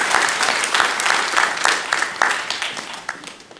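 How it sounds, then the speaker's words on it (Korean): A church congregation at a Sunday morning service claps in loud, sustained applause, with a full crowd of hands that slowly thins toward the end. "우리 영광의 박수를 우리 하나님께 올려드리겠습니다"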